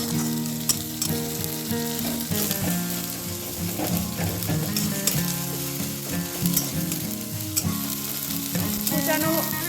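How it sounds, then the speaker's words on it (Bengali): Chopped onion and tomato fry in a pan with a loud, continuous sizzle and crackle, joined by stirring scrapes throughout and no voices. "কুচানো পেঁয়াজ আর টমেটোটা ভেজে ভেজে একদম গুঁড়ো হয়ে যাবে"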